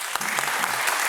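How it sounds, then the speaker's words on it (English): An audience at a women's awards reception breaks into steady, dense applause, many hands clapping together and filling the room without a pause. "Round of applause for"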